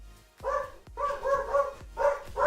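Dogs in a World of Warcraft Legion game barking repeatedly, several sharp barks in an uneven rhythm at moderate volume, heard alone.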